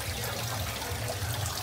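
Water trickling and pouring steadily into a small backyard mini fish pond holding molly fish, a continuous close splashing flow with no voices.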